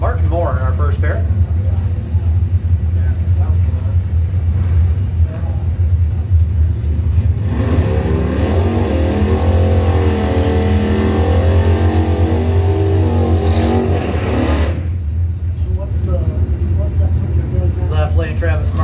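Drag race cars launch in a bracket race at the Corey Gunther Memorial, a '71 Nova SS among them, engines rumbling loudly and revving up in the middle, under a track announcer's talk.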